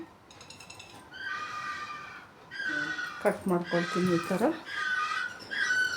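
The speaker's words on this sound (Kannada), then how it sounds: "ಅಲ್ಲಿ ಕೊಕ್ಕರೆ ಹಕ್ಕಿಗಳು ಬಂದಿರುತ್ತೆ" Egrets in a paddy field right beside a house give repeated shrill, harmonic calls from nearby, recurring in bursts throughout, while someone talks over them indoors.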